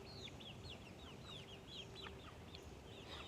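Faint, repeated high peeps from a chick sound in a quick, irregular series over a low background hum, distant and soft with no talk.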